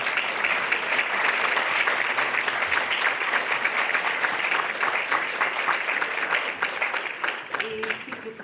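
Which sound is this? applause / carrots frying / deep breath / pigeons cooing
applause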